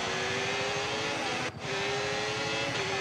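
A race car engine in a racing video game, a loud sustained high whine with a brief dip near the middle before the roar resumes, no talk.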